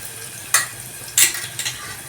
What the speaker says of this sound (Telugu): పచ్చిమిరపకాయ ముక్కలు కూడా వేస్తున్నానండి.